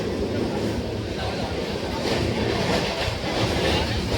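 A steady rumbling clatter of a moving, crowded Konkan Railway passenger train carriage, continuous and fairly loud throughout, with indistinct background murmur.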